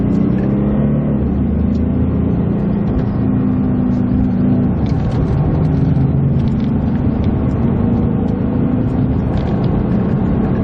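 A car engine drones steadily from inside the vehicle, a loud low rumble that rises slightly as it accelerates, with road noise throughout.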